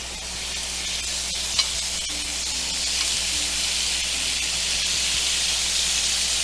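Butter lemon shrimp sizzle steadily on a grill while being basted, a continuous hiss and crackle that stays close and even throughout with no talking.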